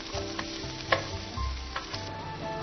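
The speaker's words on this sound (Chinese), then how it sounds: "稍稍的煎一下就可以了啊" A meat sauce omelette topped with chopped scallions fries in a pan, giving a steady close sizzle with a few light scraping and stirring taps, no voices heard.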